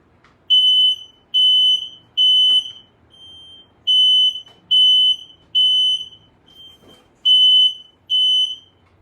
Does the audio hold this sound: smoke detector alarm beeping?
yes